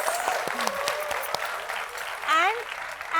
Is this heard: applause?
yes